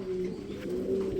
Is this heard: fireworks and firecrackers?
no